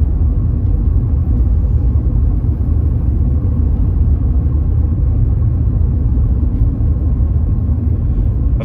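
A 1991 Mercedes-Benz 190E with a 2.0 engine cruises at 30 mph, a steady low rumble of engine and road noise heard from inside the cabin, loud and even throughout with no talking.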